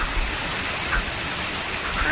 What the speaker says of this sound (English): I've never seen a rain this hard before.